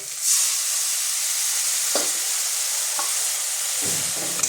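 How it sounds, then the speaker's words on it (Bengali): Ground chilli, cumin and coriander masala with sugar and a splash of water sautés in a pan, a loud steady sizzle and hiss broken by a few spoon scrapes and stirs. "মশলাটা একটু আমি কষিয়ে নেবো"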